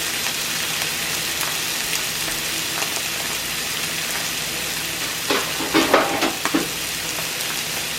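Salmon frying in oil on a stove, a dense, even hiss of sizzling that runs steadily throughout, with a brief cluster of crackles and spatters near the end, close and fairly loud.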